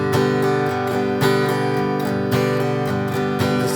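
Guitar strumming the verse chords of a song, in a steady, bright rhythm of repeated chord strokes that sounds full and close, with no talking over it.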